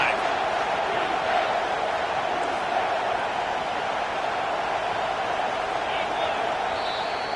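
A stadium crowd roars steadily in a college football video game, a dense, continuous wash of distant cheering that holds at a constant level throughout.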